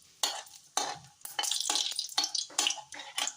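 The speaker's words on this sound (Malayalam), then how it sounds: "ഇനി നമുക്കിതിലേക്ക് കടുക് ഇട്ട് കൊടുക്കാം. 2 വറ്റൽമുളകും കൂടി ഇട്ട് കൊടുത്തിട്ടുണ്ട്." Mustard seeds and two dried red chillies frying in hot sunflower oil for a sheemachakka thoran, giving repeated bursts of close sizzling and spattering, with stirring through the hot oil.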